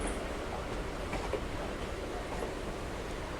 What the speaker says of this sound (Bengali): ডাউনে একটা প্যাসেঞ্জার ট্রেন আছে কোথায় যাচ্ছে আচ্ছা ধনধান্য এক্সপ্রেস তোমার লালগোলা থেকে আসছে কলকাতায় যাচ্ছে